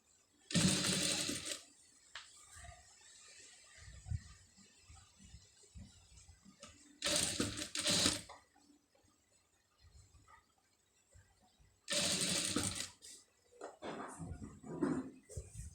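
A sewing machine stitching piping runs in three separate loud bursts of rapid whirring stitches, with quiet handling sounds in the pauses between.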